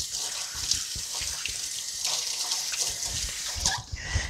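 Water runs steadily from a kitchen sink tap as a utensil is rinsed beneath it, with a constant splashing rush and small clinks, ending as the flow is cut off.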